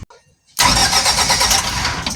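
A FERMONT MEP-804A 15 kW military diesel generator cranks on its starter after a brief quiet moment, the loud, steady churning continuing close by without a break.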